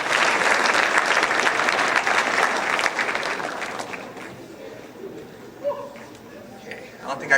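A school assembly audience applauds as a guest speaker comes up, full steady clapping that gradually thins out over a few seconds, leaving a few scattered claps and murmurs.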